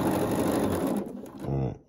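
Sewing machine stitching a row of a quilt top at short stitch length, a fast busy mechanical whir that runs steadily, pauses briefly and then spins again before stopping, with a voice talking over it.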